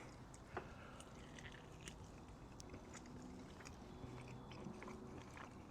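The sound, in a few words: biting into smoked beef short rib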